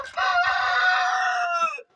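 At a chicken coop, a rooster crows once, loud and close, a long sustained call that trails off, preceded by a few soft low clucks.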